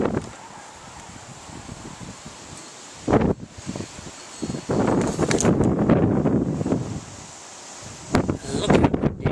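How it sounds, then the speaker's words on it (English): Strong wind blows outdoors, buffeting the microphone in irregular rumbling gusts with rustling between them, loud bursts rising and falling over several seconds. "Look how windy it is."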